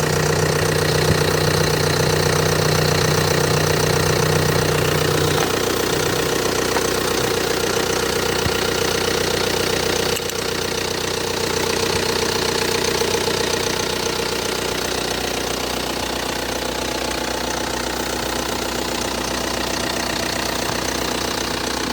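A 2005 Hyundai Santa Fe diesel with an automatic transmission idles steadily up close, its low rumble carrying a faint rhythmic knock, unbroken for the whole stretch with a slight dip in level partway through.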